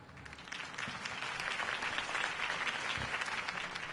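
A large crowd applauds a mayoral candidate's campaign speech in the Telltale Batman video game, dense clapping that swells slightly and stays steady at moderate distance.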